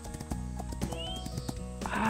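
Horse hooves in the Rival Stars Horse Racing video game, an even clip-clop of footfalls at a walking pace over soft game music and ambient tones, fairly quiet and steady throughout.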